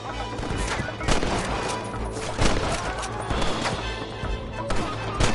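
Dense gunfire fills a shootout at Pike's Basin in the Western video game Red Dead Redemption, with rapid overlapping shots and cracks that continue without a break.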